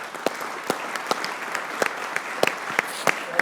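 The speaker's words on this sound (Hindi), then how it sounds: "अहमद भाई के लिए तालियां यार" An audience applauds for cricketer Ahmed Shehzad on a talk show, with scattered sharp claps over a steady clapping wash, fairly close and without speech.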